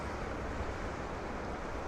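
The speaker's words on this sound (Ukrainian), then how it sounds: "А, шум прибою." Sea surf washing onto a shore in Denmark, a steady broadband rush of breaking waves with some wind buffeting the microphone, heard alone and at a fairly low, even level throughout.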